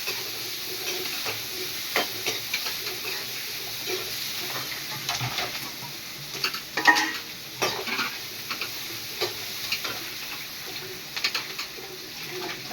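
Gentle sizzling and stirring of finely chopped onions in a hot pan for Kumbakonam kadappa, with occasional scraping clicks and no talk.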